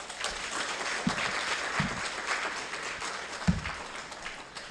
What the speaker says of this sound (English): Let's give a warm round of applause to all 7 presenters for their insightful